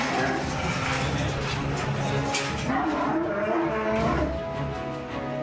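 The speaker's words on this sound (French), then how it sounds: "Dans cette cage de fortune, la vache de 500 kilos s'impatiente." A 500-kilogram cow in a makeshift cage moos loudly and repeatedly at close range, its low bellows mixed with clattering and commotion.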